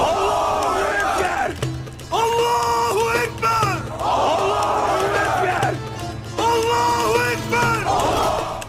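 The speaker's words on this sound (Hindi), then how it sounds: "हर तरह अल्लाहू अकबर के नारे लगाए जा रहे थे।" An army crowd shouting Allahu Akbar battle cries in repeated loud, swelling bursts of massed voices, each broken by short pauses, with a low drone underneath.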